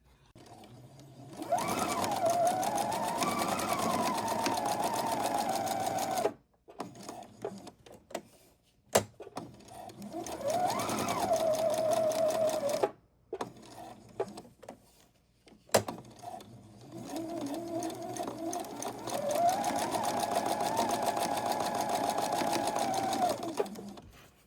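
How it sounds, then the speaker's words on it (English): A sewing machine chain-stitches fabric Christmas tree napkins in three long whirring runs, with the motor pitch rising and settling. Short clunks and pauses separate the bursts, heard up close. "we're chain stitching these, so we're just going to keep doing one after another"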